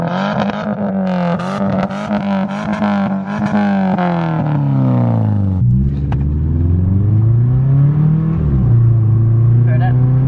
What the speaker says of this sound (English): Alright, about to get some exhaust shots.